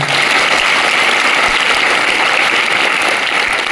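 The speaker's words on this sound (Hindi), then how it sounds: "श्रीमान सुरेंद्र जी चिंपा साहब और श्रीमान राजेश जी काटोतिया साहब के लिए जोरदार तालियां" An audience at a school farewell party applauds the vice principals at Government Senior Secondary School Thaladka, Nohar, Hanumangarh. The clapping is dense, steady and loud throughout, with no voices over it.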